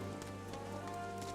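Steady rain in the video game Final Fantasy XIV, a soft continuous patter with game music tones humming underneath, no talking.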